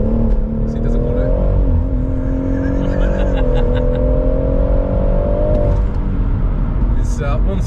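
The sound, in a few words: BMW M140i stage 2+ engine revving and accelerating on damp road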